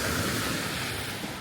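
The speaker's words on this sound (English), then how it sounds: "Oh, I love the sound of the ocean." Ocean waves wash onto a beach in Monaco, a continuous, close rushing surf mixed with wind buffeting the microphone, with no voices.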